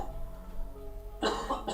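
A person coughing, two short harsh coughs close to the microphone near the end, after a stretch of low background hum.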